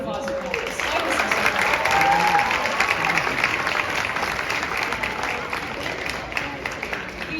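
A concert audience applauds a slide whistle solo at a band concert, steady dense clapping that swells early, holds, then thins toward the end.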